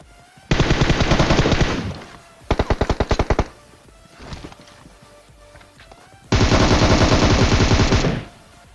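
M4 rifle fire in a battle royale video game comes as loud rapid automatic bursts: a long spray, a shorter choppy volley, faint distant shots, then another long sustained burst.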